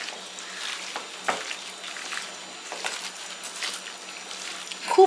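Chicken pieces, capsicum and onion coated in spices and sour yogurt are squished and turned by hand in a bowl, giving soft, wet, steady squelching and patter with a few sharper slaps, close and fairly quiet.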